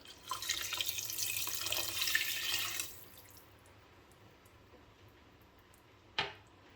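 Vegetable stock, 500 ml of it, poured into a pan for vegan gravy makes a steady liquid splash for about three seconds, then quiets, followed by a single sharp clink near the end.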